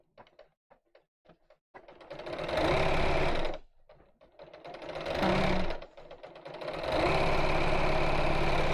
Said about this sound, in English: I'm going to leave a little gap in the middle, and then carry on sewing down that side